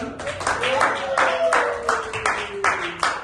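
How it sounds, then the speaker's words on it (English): Young learners in an English classroom clap for a child, giving a short round of loose, uneven applause with several distinct hand claps while a voice talks over it. "Give applause to Oscar."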